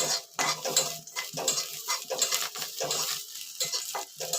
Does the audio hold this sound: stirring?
yes